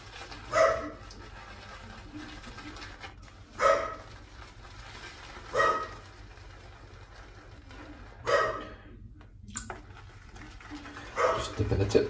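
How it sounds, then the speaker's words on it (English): Dogs bark in short bursts at a distance, with four or five separated barks spread over several seconds against a quiet indoor background during a wet shaving session. "Don't know what the dogs are barking at."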